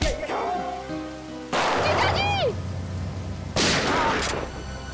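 Gunshots ring out in a dramatic scene from the Indian TV crime series CID, with two sharp loud bursts that give way to noisy rumbling tails, mixed with tense background music and a brief whistling tone.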